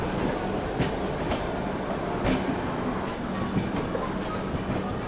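The Bhubaneswar Tejas Rajdhani Express rushes past at speed, a dense continuous roar with rhythmic wheel clatter and rail clicks, close and loud throughout.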